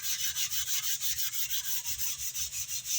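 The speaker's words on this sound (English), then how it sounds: "Just focused on thinking about sanding the pearl." Rhythmic back-and-forth rasping of a long sanding block working pearl inlay on a guitar neck during a 1969 Gibson Les Paul Deluxe Goldtop restoration, steady close strokes roughly six per second.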